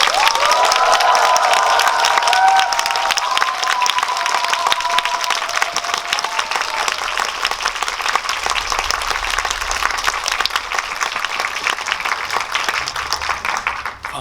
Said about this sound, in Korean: 여러분 큰 박수로 환영합니다